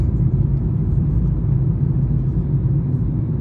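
Car driving along Cherkasskaya Street in Chelyabinsk, a steady low engine and road rumble heard from inside the cabin, continuous and even throughout with no talk.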